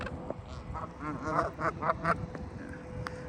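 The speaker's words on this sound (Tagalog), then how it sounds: "May kumakain na geese, tsaka duck, mallard duck." Geese and mallard ducks feeding in a neighborhood, giving a busy run of close quacks and honks that overlap in short bursts, with no talking.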